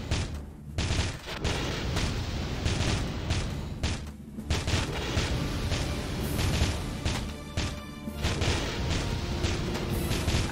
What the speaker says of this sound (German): Wieder Schießerei.